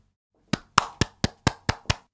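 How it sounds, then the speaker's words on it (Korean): A few people clap seven crisp, evenly spaced times after a short quiet start, the claps close and distinct, with no talk. "박수!"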